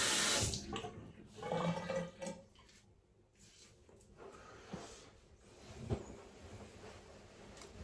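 Tap water running in a small bathroom sink while hands are wetted before a shave, a soft splashing flow with brief louder splashes and quieter stretches.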